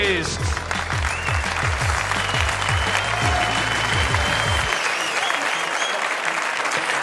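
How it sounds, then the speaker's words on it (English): Audience applause for the finalists at a World Cup of Pool finals match between the Philippines and Germany: sustained, dense clapping from a large crowd, with a low rhythmic thumping underneath that stops partway through while the clapping carries on. "Now, ladies and gentlemen, huge applause for the"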